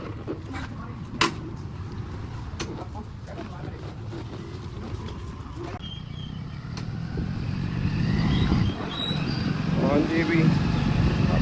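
A motorcycle engine runs steadily outdoors, its low rumble growing louder and fuller toward the end as the bike pulls away, with wind buffeting the microphone and no talk over it.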